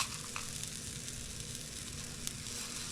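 Takoyaki batter with octopus and tempura bits cooking in a hot pan, a steady close sizzle of frying that stays even throughout with no talking.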